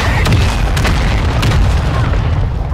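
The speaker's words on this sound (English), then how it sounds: "Hostile mortar strike incoming." A mortar strike explosion in Call of Duty: Warzone 2, a loud, close boom with rumbling low end and a few sharp cracks layered on top, filling the whole moment.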